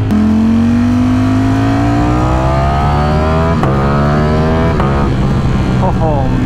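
A 208-horsepower Lamborghini Streetfighter motorcycle fitted with a titanium exhaust revs loud and close, its engine note climbing steadily in one long pull before a few sharp throttle blips near the end.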